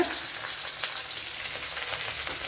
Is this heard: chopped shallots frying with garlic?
yes